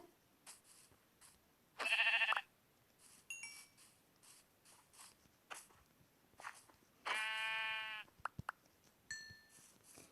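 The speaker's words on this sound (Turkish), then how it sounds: "Ah koyun. Koyun zaten artık var." Minecraft sheep bleat twice, short wavering bleats a few seconds apart over quiet game clicks and small effects.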